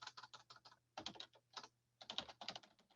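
Fingers type on a computer keyboard in quick bursts of clicking keystrokes with short pauses between them, close up and quiet, with no voices.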